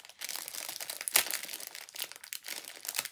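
Dry crinkling and rustling as a small paper tea envelope is handled and torn open, continuous close crackle with one sharper rip, no speech.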